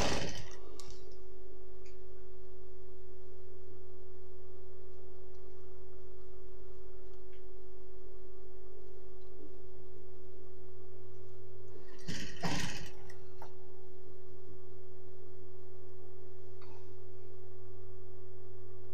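A sewing machine stitches a churidar top's lining fabric, running as a steady close mechanical hum with fine repeated clicking across the whole stretch, plus a short louder clatter partway through.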